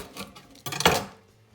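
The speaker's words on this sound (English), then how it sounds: "Cut these babies in half." A knife slicing onions in half on a cutting board, two quick close cuts with clicks of the blade, the second louder, then quiet.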